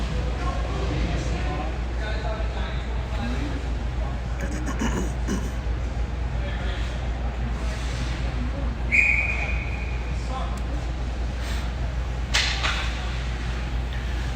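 A referee's whistle sounds once at an ice hockey game in a rink, a brief clear tone heard at a distance under steady crowd and arena noise, with a commentator talking.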